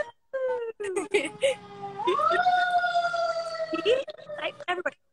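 An ambulance siren wails nearby, its tone gliding up and holding steady in long sweeping cycles, broken by short gaps.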